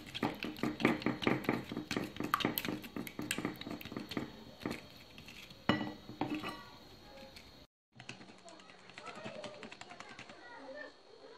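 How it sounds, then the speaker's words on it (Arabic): A whisk or spoon beats egg and sugar together in a bowl, making rapid, rhythmic clicking taps against the sides, loud and close, that stop abruptly and give way to quieter scraping and faint background sounds. "الحبة تاع البيض، نخلطهم مليح هنايا حتى يذوب هذاك"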